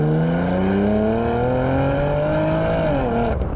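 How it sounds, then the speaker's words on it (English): A Porsche Macan GTS with a Sport muffler accelerates hard, its exhaust note climbing steadily in pitch through the rev range before a brief drop at a shift. It is loud, close and continuous, with no talking. "The exhaust note also is a lot more engaging with the Sport muffler."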